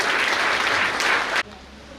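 An audience at a retirement ceremony claps in a dense, even burst of applause that stops abruptly after about a second and a half, leaving quiet room tone.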